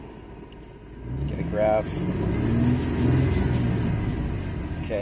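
The V6 engine of a 1999 Ford Mustang idles steadily close by, running a little high, with a slight swell in engine sound partway through as a person talks over it.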